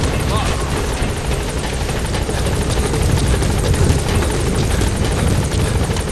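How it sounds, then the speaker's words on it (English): A support helicopter arriving in Metal Gear Solid V: The Phantom Pain, its steady rotor chop and engine roar loud and continuous throughout, with a voice speaking over it. "Support helicopter has arrived."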